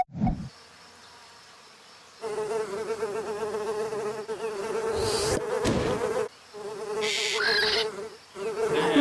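Flies buzzing close by, a dense whining drone that cuts in and out in uneven bursts, with louder passes as the insects move nearer.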